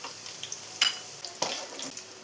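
Dried red chillies frying in hot coconut oil for a drumstick-leaf chutney, giving a soft, steady close-up sizzle with a few sharper crackling bursts and stirring scrapes.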